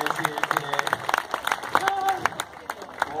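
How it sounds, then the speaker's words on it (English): Scattered applause from an audience at an outdoor street show in Stockholm, with uneven claps mixed under loud overlapping voices and crowd chatter. "big round of applause for all of our volunteers here today."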